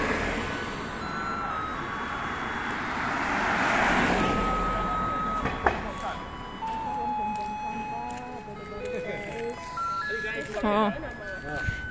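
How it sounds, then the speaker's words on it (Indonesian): A yellow Taiwanese garbage truck plays its looping electronic melody while still some distance away, the tune rising and shifting over street ambience as someone talks throughout. "itu kayaknya suara mobil sampahnya udah kedengeran ya"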